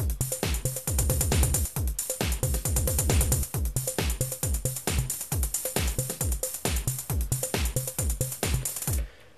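Programmed drum part played back from a MIDI clip in Ableton, a tight repeating kick-and-snare groove with bright hits cycling steadily for several bars, loud and alone, then cutting off at the end.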